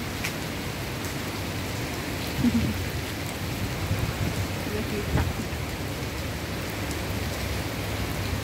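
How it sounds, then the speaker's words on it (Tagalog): Heavy rain pours steadily in a city street setting in Tanjung Pagar, a dense continuous hiss with a few brief louder spatters, and a single short spoken word near the start. "Ay, malakas ang ulan, guys."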